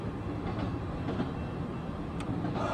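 A freight train hauling autorack cars rolls past with a steady rumbling roar and faint rail clatter, heard from a moderate distance without talk.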